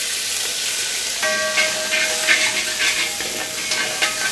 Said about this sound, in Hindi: ये मैंने कसूरी मेथी ली है और कसूरी मेथी को हम इसमें भून लेंगे